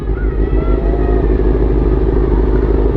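A 1992 Honda CB400 motorcycle engine, recently rebuilt, runs loud and close at a steady idle, with a dense mechanical rattle from a noisy clutch.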